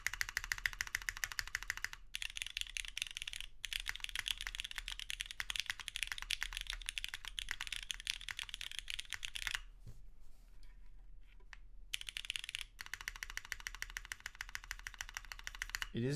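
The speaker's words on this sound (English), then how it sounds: "Ooh, listen to the space bar." Steady, rapid typing on a mechanical keyboard with MX2A black switches in an aluminum case and SWG beige ABS keycaps, including space bar presses; close dense clatter with two short pauses and a longer gap near the middle.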